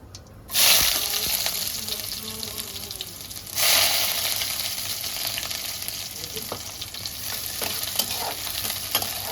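Cumin and onion hit a hot pan with two loud bursts of sizzling, each settling into a steady frying crackle with faint stirring scrapes; no voices over it.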